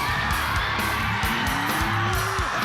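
A high school student section at a boys basketball game cheers and yells in a loud, continuous roar, with whoops and shouts rising over the gym crowd and a long whistle-like tone sweeping through it.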